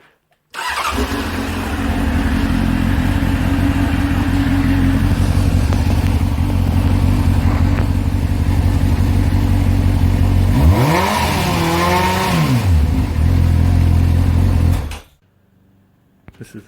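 A Honda CBR600F motorcycle with no exhaust fitted idles loud, raw and steady up close, then revs sharply twice near the end before the engine cuts off.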